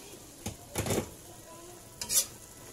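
A few soft scraping strokes of a utensil stirring vegetables in a pan, quiet and spaced apart over a faint background sizzle.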